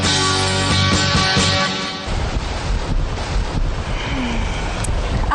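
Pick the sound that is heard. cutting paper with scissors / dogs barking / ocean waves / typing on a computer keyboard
ocean waves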